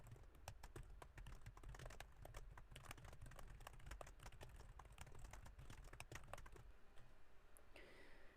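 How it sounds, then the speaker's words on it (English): Keys clatter in a fast, steady stream of crisp clicks as someone types on a Mac computer keyboard, close and fairly quiet, ending in a short pause. "whether we are typing on a keyboard"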